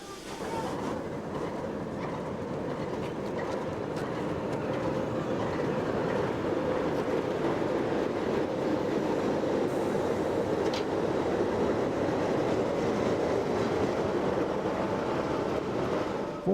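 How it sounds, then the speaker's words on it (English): Steam locomotive 5910 on the New South Wales railways loses its grip as it starts a loop line shuttle. It gives off a continuous rumbling roar with rail noise at a steady, moderate level. "5910 loses her feet as she takes off on a loop line shuttle."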